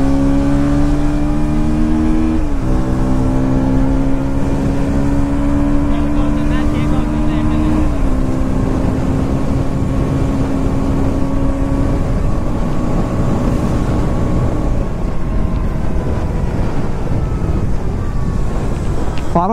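KTM Duke 160 motorcycle ridden in third gear, a loud steady engine drone with audible pitch shifts as the revs rise and drop, heavy wind rush throughout and a rider talking over it.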